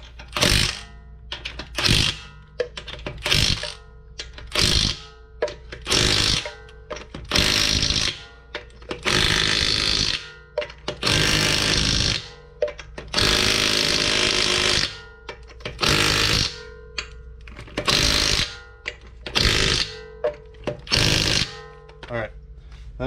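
Impact wrench tightening wheel nuts on a 2015 GMC Terrain, a close, loud sequence of short rattling bursts repeated in quick succession, with a few longer sustained runs in the middle, in a garage setting.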